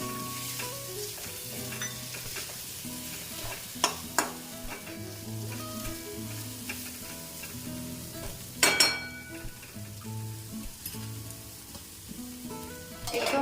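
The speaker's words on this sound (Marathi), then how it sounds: "त्यामध्ये आता आपण वटाणा घालूया शिजवलेला" Cooked peas tipped into a pan for methi matar malai and stirred, a steady close sizzle with scraping spoon strokes and a couple of sharper clinks against the pan.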